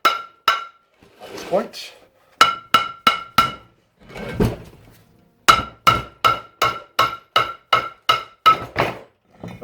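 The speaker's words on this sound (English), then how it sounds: "I shall use the big hammer on the disc." A big hammer strikes the brake disc on a 1990 two-door Range Rover being converted, delivering sharp metallic clangs in irregular bursts, then a quick run of evenly spaced ringing blows; someone says a few words at the start.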